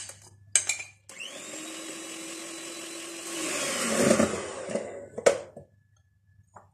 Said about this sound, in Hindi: चीनी और ऑयल को बहुत अच्छी तरह से बीट कर लेने के बाद